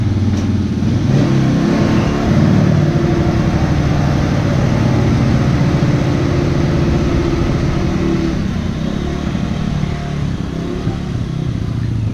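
A Kymco 90 quad's small engine runs loud and close after a kickstart, holding a steady buzzing idle with brief revs rising and falling throughout, no voices over it.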